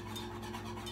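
Butter being whisked into keto caramel sauce in a pan, a steady soft swishing and stirring close by, quiet and continuous with no voices.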